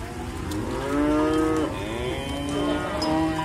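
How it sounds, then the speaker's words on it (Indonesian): Limousin cross cattle moo at a morning animal market in Muntilan, one loud, drawn-out low call up close, then a second rising moo, with no talk over them. "ternyata ini seperti sapi limosin cross"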